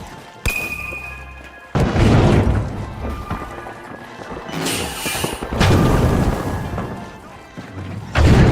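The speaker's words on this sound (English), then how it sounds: "Throwing sonar grenade!" Sonar grenade thrown and detonating in the shooter game The Finals, with heavy booming blasts and crashing impacts recurring through a dense, loud mix of in-game combat noise, close up and with no voices.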